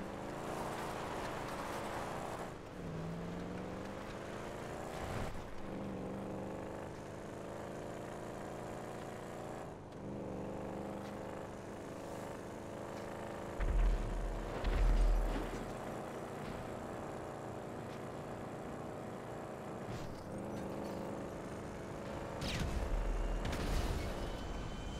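Video game cars drive with a continuous, fairly quiet engine drone that rises and falls. A few low thumps mid-way mark collisions, with no talking.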